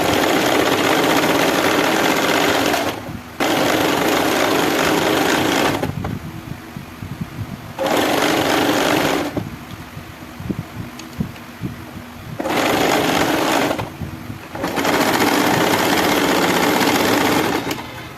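A sewing machine stitches piping onto a blouse in several whirring bursts, each a few seconds long, with short quiet pauses between the runs.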